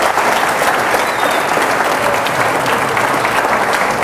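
A debate audience at the 2014 Arizona gubernatorial debate claps loudly and continuously, a dense, even wash of applause filling the hall without pause.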